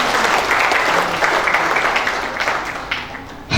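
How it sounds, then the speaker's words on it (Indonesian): A crowd at a Nahdlatul Ulama MWCNU Kebon Jeruk inauguration ceremony claps in dense, sustained applause that holds steady for several seconds before stopping abruptly. "Boleh tepuk tangan untuk Bapak Ibu semuanya."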